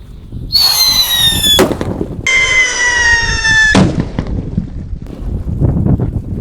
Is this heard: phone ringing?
no